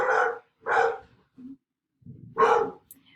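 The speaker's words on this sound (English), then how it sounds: "my dog is barking." A dog barks several times close by, sharp, loud yaps with short gaps between them.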